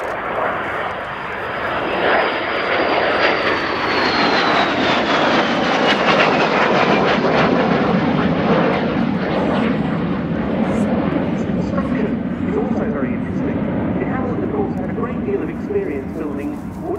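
A de Havilland Vampire jet with a de Havilland Goblin engine roars through a flying display at an air show, a loud sustained engine rush with a falling whine, heard continuously for the whole stretch.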